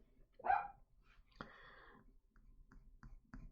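A single sharp bark comes from Mango, a pet dog, somewhere in the background. A few faint clicks and rustles follow in a quiet room.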